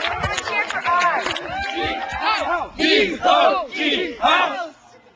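Children at a summer camp, Camp Med-O-Lark, shout and cheer together in loud, close group chants. The voices come in rhythmic bursts and drop away at the end.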